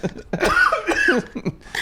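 A short burst of several rough coughs in quick succession, close and loud, with a brief throaty catch between them.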